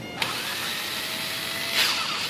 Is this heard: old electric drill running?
yes